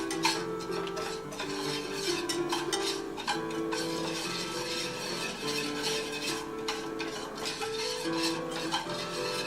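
Chocolate for mousse melting in a pot, stirred with steady continuous scraping and light ticking contact sounds throughout, close up with a faint tonal hum underneath and no talk.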